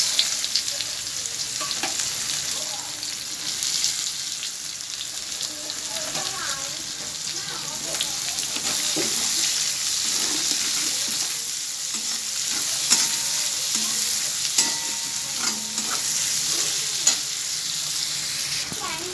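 Chopped onion frying in a pan over cumin seeds for a pointed gourd and potato dish, a continuous near sizzle broken by repeated spatula stirs and scrapes, with faint background sounds.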